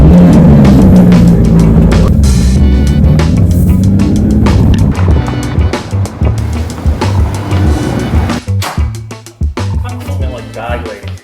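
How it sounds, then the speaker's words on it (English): A car drives a short trip through town, its engine and road noise a loud, continuous rumble close inside the cabin, easing slightly near the end with shifting tire and wind sounds. "Let's drive."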